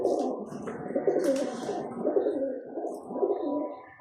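Mixed-breed pigeons coo softly and continuously, a low rolling burble of overlapping calls from a few birds close by, with faint chirps above and no speech.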